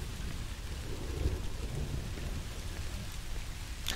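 Steady rain pours over an abandoned schoolyard in the horror video game Song of Horror, with a low rumble of distant thunder rolling beneath the hiss; no voices, fairly quiet overall.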